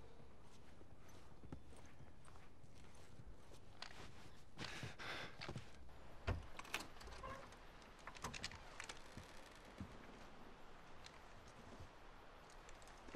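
Irregular hoof clip-clops from horses walking in The Last of Us Remastered, with scattered thuds and shuffling over a steady background hiss; no talking.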